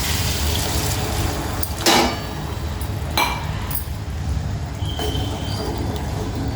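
Water poured from a small glass splashes into a pan of frying bottle gourd curry, with a few clinks of glass, loud and close, no one speaking.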